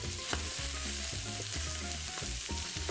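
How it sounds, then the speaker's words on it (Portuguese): Beef pieces for a Brazilian feijoada sear in hot oil spread across the bottom of a cooking pot, giving a steady, loud sizzle and crackle with occasional stirring clatter, no voices. "Eu vou deixar minha carne selar primeiro."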